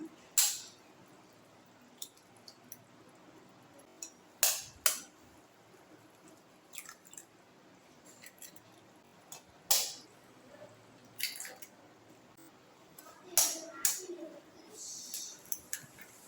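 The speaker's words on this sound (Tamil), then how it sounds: "முட்டையை உடச்சி அப்படியே ஊற்றிக்கலாம்" Eggs are cracked one at a time and poured into simmering egg gravy, giving sparse sharp cracks and soft splashes at close range over a quiet bubbling background, with no talking.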